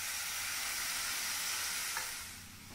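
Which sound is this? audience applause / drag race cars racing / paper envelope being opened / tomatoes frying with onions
tomatoes frying with onions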